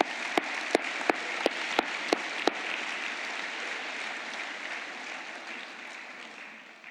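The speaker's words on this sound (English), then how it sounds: "I'm going to give you a little round of applause." Applause from the audience at a School of Media graduation ceremony, heard as a broad, steady wash of many hands clapping that fades slightly toward the end, with a few sharper individual claps standing out near the start.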